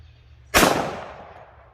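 A single loud shot from a Nighthawk Custom GA Precision 1911 pistol, a sharp close crack that rings out and decays over about a second with no other sounds.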